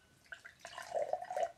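Water poured with a swing into a container, a short splashing trickle that builds and gurgles over about a second, close and fairly quiet with no talking.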